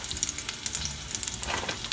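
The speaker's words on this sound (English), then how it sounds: "Next I'm going to add this Kashmiri red chili powder for a very good color." Kashmiri red chili powder frying in a pan on a low flame makes a brief, steady crackling sizzle, fairly close and moderately loud, with no voices over it.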